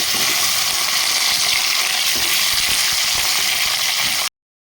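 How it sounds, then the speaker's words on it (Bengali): Fish head sizzles in hot oil in a wok, a loud, dense, steady hiss of frying that cuts off abruptly at the end, with no voices. "মাছের মাথাটা ভেজে নেব।"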